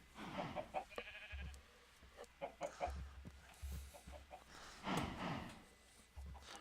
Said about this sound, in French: On a poule, mouton et vache quand même